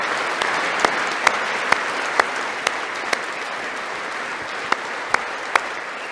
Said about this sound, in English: Who's clapping right into their fucking microphone?